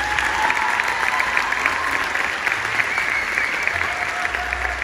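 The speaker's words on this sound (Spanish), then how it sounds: "También un fuerte aplauso para Yossi." Loud, continuous applause from an audience at a live show in Mexicali, dense and even for several seconds, with faint background sounds beneath.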